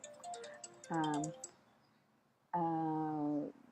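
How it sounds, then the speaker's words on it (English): Phone message notification sound, two clear electronic tone chimes, the second longer, after a softer stretch of someone talking. "I have a message on my phone now. It's talking to me."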